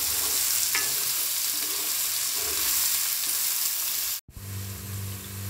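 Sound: chopped onions frying and being stirred in a pan

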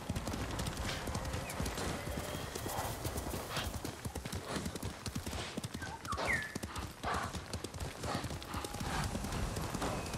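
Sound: horse galloping hooves in video game Ghost of Tsushima

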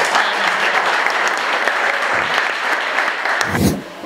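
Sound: applause

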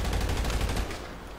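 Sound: gunshot in the video game GTA roleplay

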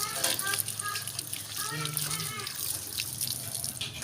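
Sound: washing sugarcane juicer machine with water

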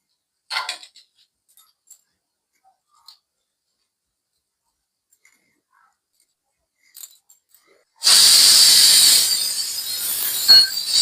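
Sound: pressure cooker whistle hissing steam while cooking

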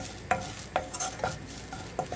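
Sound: sautéing grated coconut in a pan

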